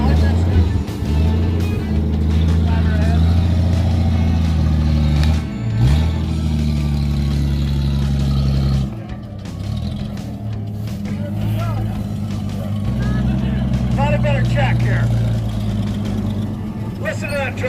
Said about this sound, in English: Listen to that truck, you guys.